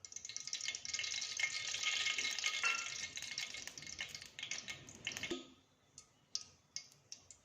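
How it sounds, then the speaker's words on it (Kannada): Oil poured onto a hot tawa spits and sizzles in a bright, crackling hiss that fades into scattered ticks and pops as it settles. "ಈಗ ತವಾ ಕಾದೈತಿ, ಎಣ್ಣೆ ಹಾಕ್ತೀನಿ"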